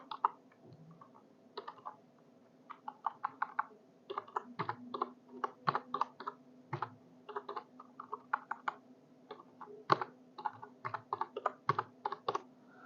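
Irregular bursts of key clicks from a computer keyboard as random numbers are entered into a spreadsheet, quick taps in uneven clusters over a steady low hum, fairly close.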